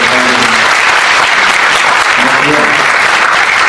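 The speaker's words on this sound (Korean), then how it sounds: "그냥 박수로 환영해 주시죠." A crowd at a Korean political party economic forum greets young veterinarians, doctors and restaurant entrepreneurs with loud, close, continuous applause, with faint voices mixed into the clapping.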